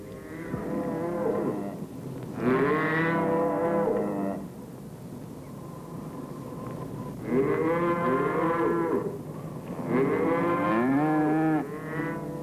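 Cattle low loudly at a Southern cattle auction. There are four long, drawn-out moos separated by short gaps. They sound fairly close, with no talking over them.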